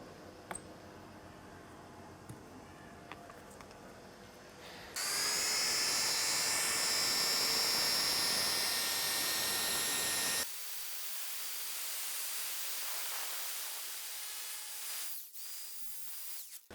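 Meguiar's DA power system polisher with a burgundy pad buffing a plastic headlight, a steady loud whirring drone that shifts pitch and load partway through, with no talking.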